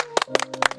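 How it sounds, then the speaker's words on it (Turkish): A quick burst of about five or six sharp, separate handclaps during a karaoke challenge game, close and loud, with a faint low tone humming underneath. "Bir alkış."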